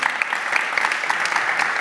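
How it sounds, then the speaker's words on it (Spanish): Applause from a tech conference audience at the end of a session, a brief, even patter of many hands clapping fairly close. "me gustaría un aplauso todavía más fuerte"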